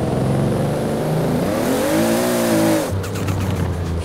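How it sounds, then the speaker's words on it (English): A car in the racing video game Forza 4 spins its tires in fifth gear, the engine droning and rising in pitch over a steady squealing hiss, then dropping back to a lower rumble near the end. "Fifth gear, spinning tires."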